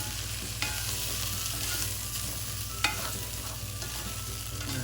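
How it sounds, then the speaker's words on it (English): Rice toasting with chicken in a pan gives a steady close sizzle with soft stirring scrapes, and a couple of sharper clinks stand out over the even frying hiss. "Starting to stop sizzling. Yeah, because the rice is in there."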